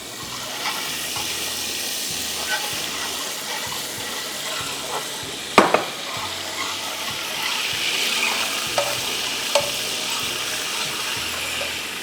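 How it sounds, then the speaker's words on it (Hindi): Masala with a splash of water sizzles quietly in a pan while a spoon stirs it, with a few sharp clinks of utensil against the pan. "थोड़ा सा पानी डाल के भूनूंगी ताकि यहाँ उड़े नहीं।"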